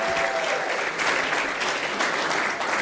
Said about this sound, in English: Big round of applause for everyone that came out tonight.